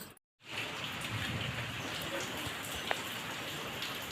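Heavy rain pours steadily outdoors, a dense continuous hiss of drops hitting surfaces after a brief silent gap at the start, with no voices.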